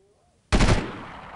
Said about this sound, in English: somebody is shooting at us